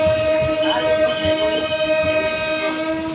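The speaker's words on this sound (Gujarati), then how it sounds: "હવે આપણે ટ્રેન પણ સીટી મારી દીધી છે." A passenger train sounds a long, steady horn before pulling out, loud and sustained across the whole moment over a low rumble of idling carriages.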